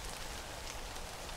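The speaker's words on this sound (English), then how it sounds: "I'm sheltering underneath an oak tree from the rain" Rain falls steadily as heard from shelter beneath an oak tree, a dense, even patter of drops on leaves and ground, soft and continuous with no voices.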